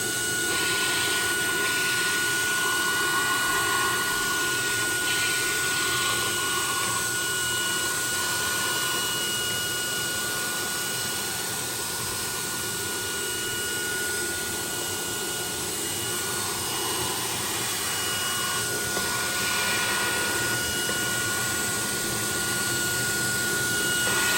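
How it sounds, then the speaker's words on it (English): An Agaro Supreme cordless vacuum cleaner sucks up colored sand, with a continuous, even motor roar and airy hiss running unbroken for the whole stretch and no voices. "I have sprinkled some colored sand here to clearly show the suction strength."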